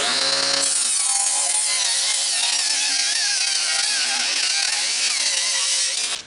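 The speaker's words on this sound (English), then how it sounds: "I'm going to run my 2x4 through my table saw." A table saw rips thin strips from a 2x4, its loud steady whine of blade through wood running continuously for about six seconds before cutting off at the end.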